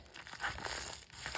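A homemade paper squishy with reused plastic inside crinkles and crackles close up as it is squeezed, a short burst of dense rustling crunches with no talking.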